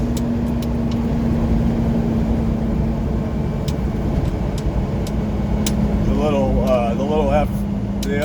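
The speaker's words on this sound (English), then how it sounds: "He went around with his loud exhaust pipe." A pickup truck with a loud exhaust rumbles steadily with a low drone throughout as it passes, while people talk over it near the end.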